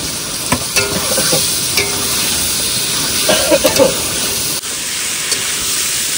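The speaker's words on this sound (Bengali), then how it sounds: "আলু কষানো হয়ে গেছে" Potatoes sauté with spices in a pan for a fish curry, a loud dense hiss of frying throughout with scattered stirring clinks and scrapes near the microphone.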